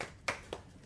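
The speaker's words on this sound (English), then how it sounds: "Give her a hand clap." Two separate hand claps, a sharp one followed by a softer one, in a quiet podcast room.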